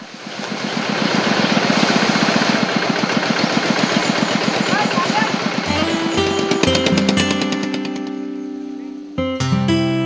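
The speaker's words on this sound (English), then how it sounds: "return with a truck whose engine is a joyful sound to the elephants" A truck engine chugs steadily, idling loudly for several seconds at an elephant feeding area, then cuts out and gives way to clanking, tonal mechanical sounds.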